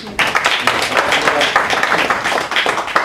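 Audience clapping at a book launch event, a steady burst of many hands applauding together, close and fairly loud for a few seconds.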